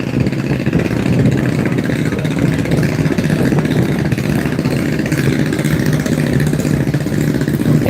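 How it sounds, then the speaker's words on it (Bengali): A steady, loud engine drone runs throughout, a continuous low mechanical rumble of a trawler boat motor with no pauses or speech. "গতি নিয়ে যাচ্ছে টলারটি"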